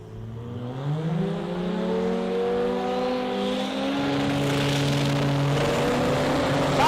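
Sports compact drag racing cars launch down the track at a finals event in Adelaide, engines revving hard and rising steadily in pitch as they accelerate away, loud and continuous throughout.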